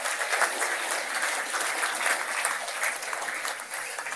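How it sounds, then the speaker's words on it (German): Steady applause from a lecture audience, a dense patter of many hands clapping at moderate loudness, continuing throughout with no pause. "Ein Applaus für Professor Kressig."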